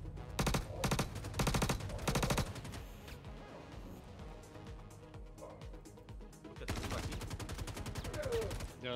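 Rapid bursts of automatic gunfire in the space shooter Star Citizen during a boarding assault on an Idris ship, loud repeated volleys at the start and again near the end, with quieter combat noise between and players talking over it.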